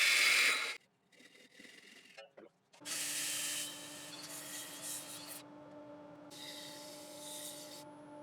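Sanding the bottom of a turned elm piece, with bursts of abrasive rubbing and a steady motor hum between them, all fairly quiet and close.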